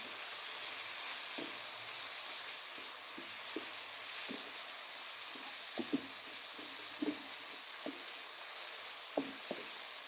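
Capsicum and onion being stirred in a pan give a quiet, steady sizzle under a string of soft spoon scrapes and taps, cooking for chicken vegetable macaroni; no speech is heard.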